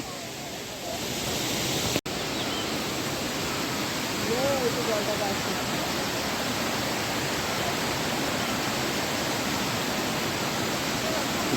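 Water rushing at Changey Waterfall in Kalimpong, a loud continuous broadband roar with a sharp click partway through and faint voices barely audible beneath it.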